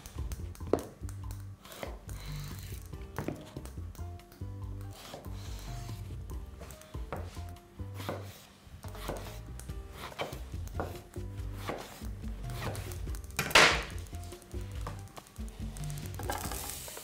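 Eggplant is finely chopped on a board, a rapid run of close, crisp knife taps in a steady rhythm, briefly broken by a short scrape, with no voices.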